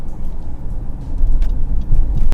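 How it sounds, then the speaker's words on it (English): A 2018 Honda Ridgeline RTL-E pickup truck accelerates, its engine a steady, loud low rumble that swells a little toward the end, heard from inside the cab with no talk. "Do a little acceleration here. It sounds great and it feels great for a truck."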